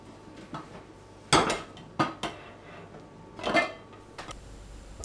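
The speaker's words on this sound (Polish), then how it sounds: "Zaglądamy do patelni, odwracamy ryby, obsmażamy dookoła." Fish being turned in a frying pan while pickled fish is made, with a few sharp metallic clanks and scrapes of a utensil against the pan in separate bursts. No one speaks.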